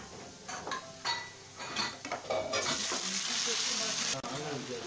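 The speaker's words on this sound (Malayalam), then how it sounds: "പിന്നെ അതിലേക്ക് കുറച്ച് കറിവേപ്പിലയും കൂടെ ഇട്ടിട്ട് ഒരു ലൈറ്റ് ഗോൾഡൻ ബ്രൗൺ ആവുന്നത് വരെ നമുക്കതിനെ ഒന്ന് വഴറ്റാം" Chopped onion and curry leaves sauté in a pan, a steady loud sizzle running under repeated scraping clinks of a spoon stirring against the metal, close by and continuous.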